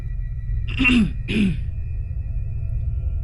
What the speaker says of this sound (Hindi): गला साफ करते हुए बोले